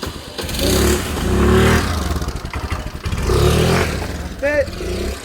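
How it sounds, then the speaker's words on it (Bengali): An old motorbike with loose brakes runs close by, its engine droning in two rising swells with rattles and clatter, while a voice is heard briefly. "কোন পুরানা বাইক নিয়ে আসছে, একই তো ব্রেক ঢিলা।"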